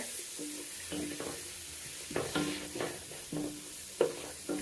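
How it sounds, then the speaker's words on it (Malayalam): Garlic and ginger fry in a pan with a soft, steady sizzle, while close, rhythmic stirring scrapes repeat throughout. "നേരത്തൊന്ന് പൊരിയട്ടെ കേട്ടോ വെളുത്തുള്ളി"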